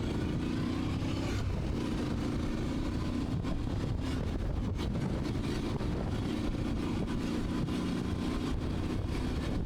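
A Voge DS800X Rally motorcycle being ridden, with a steady, continuous rumble of engine and wind noise that holds for the whole stretch and has no talking over it.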